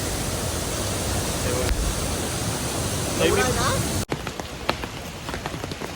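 A Konkan waterfall in Lanja, Ratnagiri, roars with a dense, steady rush of spraying water, close and loud, before cutting to quieter surroundings where a voice speaks.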